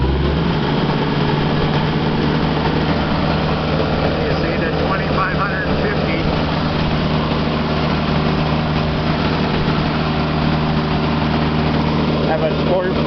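A tractor engine drones steadily and loudly while backing a brush hog mower on a farm, a constant low rumble that runs the whole time with a voice talking over it.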